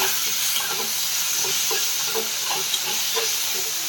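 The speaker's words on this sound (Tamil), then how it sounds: "நல்லா ஃப்ரை ஆகணும். இதுமாரி ஃப்ரை பண்ணிக்கிட்டே இருக்கணும்ப்பா. கொஞ்சம் தக்காளி வதங்கட்டும்." Tomatoes fry in a pan with a steady sizzle, while a utensil stirs them in a regular scraping rhythm of soft, repeated strokes.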